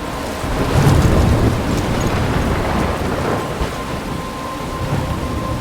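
A loud thunderstorm rages in the video game Life Is Strange, with heavy rain hissing and wind gusting, a rolling rumble swelling early and then easing, and no voices.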